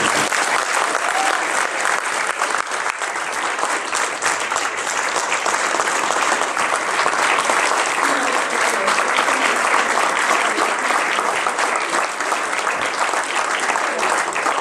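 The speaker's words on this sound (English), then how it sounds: "help me give a round of applause to the men and women of law enforcement" An audience at a sheriff's public event gives sustained applause for law enforcement officers: a thick, even roar of many hands clapping that holds at a constant loud level for nearly fifteen seconds.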